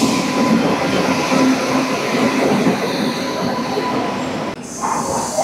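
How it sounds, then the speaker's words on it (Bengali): Train rolling into a railway station in India, a loud continuous rumble of wheels on rails with a metallic screech, close by and steady before a brief dip near the end. "ফাইনালি আমাদের ট্রেন এসে পৌঁছালো"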